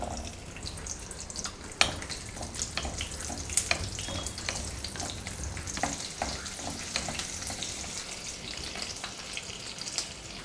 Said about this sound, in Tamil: கொஞ்சம் இந்த பூண்டு வறுபடட்டும்